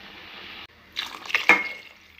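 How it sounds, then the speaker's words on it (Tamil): Water is poured into a pressure cooker in a home kitchen while making thakkali soru. A short, close splashing pour follows a low steady hiss, with no talking. "அரை படியால் தண்ணி, இதால் 2 படி தண்ணி ஊற்றணும்"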